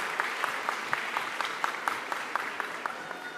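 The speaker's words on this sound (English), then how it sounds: "give them a good round of applause" A graduation ceremony audience for a science and technology faculty applauds, with steady crowd clapping and distinct sharper claps popping out at a regular beat across the whole stretch.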